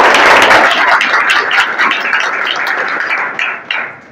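A gathered audience breaks into dense, loud clapping that holds steady throughout and thins out slightly near the end, with no voices over it.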